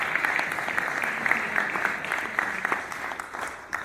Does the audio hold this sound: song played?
no